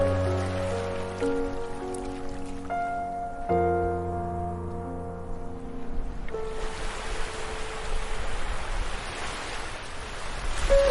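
Waves wash onto a beach in a steady broadband rush, mixed with sustained musical tones that fade partway through, leaving the surf louder and more prominent near the end.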